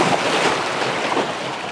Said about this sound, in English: Pretty substantial creek crossing here.